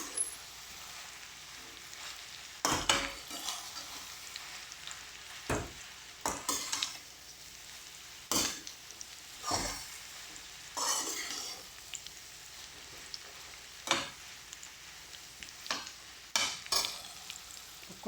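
Food cooks in a pan while a spatula stirs it, the low sizzle punctuated by irregular sharp scrapes and knocks against the pan, close and moderately loud.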